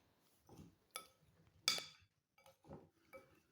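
Spoon clinking against a bowl while kelewele mixture is stirred, a few sharp knocks spaced irregularly over soft scraping, close and fairly quiet.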